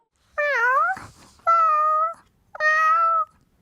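A young woman, a K-pop singer, imitates a cat, giving three drawn-out, wavering meows in quick succession, close and clear, with short gaps between them.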